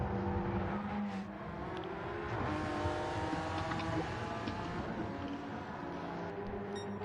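A Mercedes race car roars around a race track, a continuous engine drone with shifting revs and whine filling the whole stretch at a steady, fairly close level, with no talk over it.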